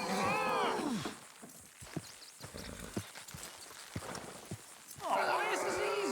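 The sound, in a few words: horses' hooves while pulling, in the video game Red Dead Redemption 2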